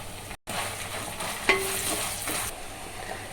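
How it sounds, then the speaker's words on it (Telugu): Sliced onions and green chillies sizzle in hot oil inside a clay pot, a steady close frying hiss with stirring scrapes and one brief break near the start, no talking. "సో ఆనియన్స్ అయితే వేసుకుంటున్నాను ఈ కుండలో సో మసాలా అయితే మంచిగా ఫ్రై చేసుకోవాలి"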